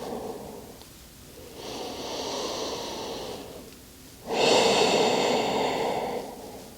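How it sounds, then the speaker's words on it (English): Two long, deep breaths, a drawn-in inhale followed by a fuller, louder exhale, come from close by during a yoga stretch on a mat, with a brief pause between them and no talking. "and a deep breath out"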